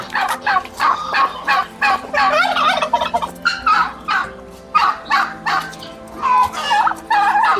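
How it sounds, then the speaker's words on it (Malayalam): Native chickens on a farm in Malabar cluck and squawk loudly and close, with busy overlapping calls and a dog barking now and then among them. "നാടൻ കോഴികള് എല്ലാം ഉണ്ട്."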